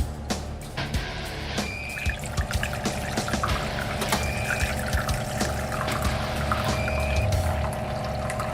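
Liquid custard poured into a crème brûlée baking dish in a home kitchen, a steady close trickle and splash running throughout with faint drips and clinks, no talking.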